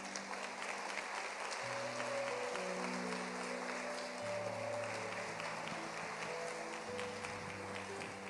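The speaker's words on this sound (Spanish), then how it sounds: "Dele un fuerte aplauso al Señor." A church congregation claps continuously in dense, steady applause, with faint music or tones sounding underneath throughout.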